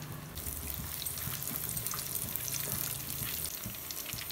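Whole spices such as cloves, cinnamon bark and leaves sizzling in hot oil in a clay pot, a steady close crackling fry that continues unbroken with no talking.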